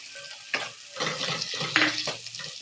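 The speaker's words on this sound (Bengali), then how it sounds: "আদাটা দিয়ে একটু ভেজে নেব।" Ginger paste is stir-fried with onion and tomato in a pan, making a close sizzle broken by uneven scraping strokes that swell and fade, with no talking.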